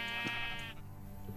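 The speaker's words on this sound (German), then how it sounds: "Da ist noch ein Schaf." A sheep in the Minecraft video game gives one bleat, a clear, buzzy, wavering cry heard alone over a faint background hum.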